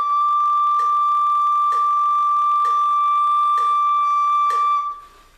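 A single high, steady whistle-like tone, a soprano recorder's high D, held for nearly five seconds, with faint breathy puffs pulsing roughly every second, then stopping abruptly.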